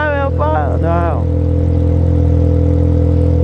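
Yamaha XJ6 motorcycle engine idling steadily with a low exhaust drone beside a shop, a brief rev at the start settling into a constant hum.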